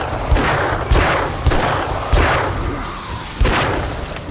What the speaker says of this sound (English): I'm shooting this leg